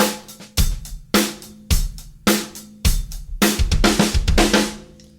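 Gospel drum fill pushed a sixteenth note, played on a kit as a run of punchy tom and snare hits with kick underneath, rolling into a busier, denser flurry of strokes at the end.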